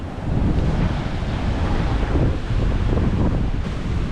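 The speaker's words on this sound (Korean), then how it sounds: "여기 흰타, 흰야의 비치고 유명한 곳이더라고요 이렇게 바닷가가 있고" Ocean waves roll onto a beach in Koh Samui, Thailand, a loud continuous surf wash mixed with wind buffeting the microphone, with no talking.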